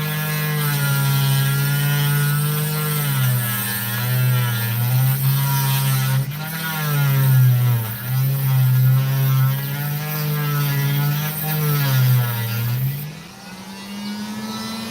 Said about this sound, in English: my Dremel wasn't blunt before. It will be blunt now.